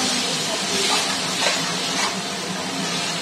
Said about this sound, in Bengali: পেঁয়াজটা যেহেতু পেস্ট করা আছে, তাই এটা একটু ভালো করে তেলে দিয়ে কষিয়ে নিতে হবে, ভালো করে ভাজতে হবে